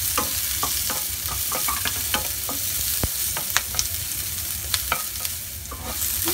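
Onions stir-fried with ginger and garlic in a hot pan, a continuous loud sizzle with repeated scraping and clacking of a utensil tossing the food, close by.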